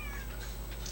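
A cat lets out a single short meow, brief and mid-loud against a steady low background hum.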